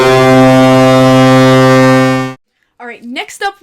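A deep, booming NHL goal horn like a ship's foghorn blasts loud and steady for about two seconds, then cuts off abruptly, followed by someone speaking.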